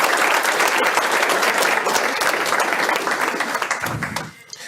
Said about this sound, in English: And now let's give a big round of applause for Dr.